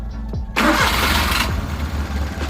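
A Suzuki F6A engine in a Multicab with a cranks-but-won't-start fault is turned over: a click, then a loud rough burst of cranking roars up and carries on as a steady, close mechanical churn.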